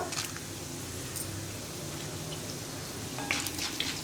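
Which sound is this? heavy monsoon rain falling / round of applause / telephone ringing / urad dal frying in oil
urad dal frying in oil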